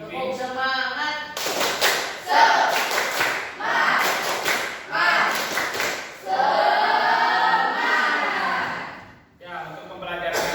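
Classroom students doing a rhythmic spirit clap in patterned bursts. Voices chant with the clapping, and the sound is close and fairly loud.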